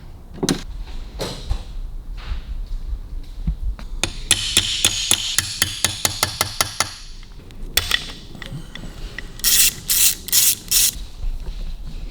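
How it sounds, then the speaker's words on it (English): Sharp metallic taps ring out, first scattered, then a fast even run of hammer strikes on a punch while working on a Kawasaki KH750 engine, ending with a few loud, bright clangs. "A hammer and a little punch."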